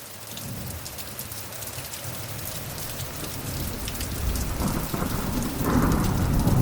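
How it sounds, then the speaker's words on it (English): Steady heavy rain of the long rainy season in Kenya, with rolling thunder building into deep rumbles toward the end, close and loud, with no voices. "The long rains have arrived in Kenya"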